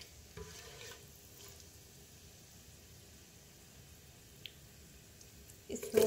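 Bay leaves and garam masala frying lightly in oil for vegetable pulao, a faint low sizzle with occasional soft stirring and a louder clatter at the end; no talking.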